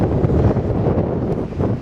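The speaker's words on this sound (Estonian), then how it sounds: "Tuul puhub ainult juba tõesti." Strong wind buffets the microphone on Charles Bridge in Prague, a steady loud low rumble with gusty swells throughout and no voices.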